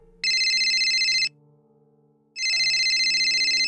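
A telephone rings with two bright electronic trill bursts, each about a second long and separated by a short pause, clear and close over a faint low background tone.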